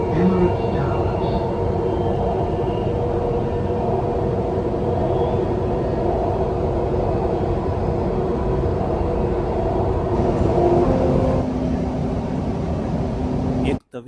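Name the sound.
Dubai Metro train running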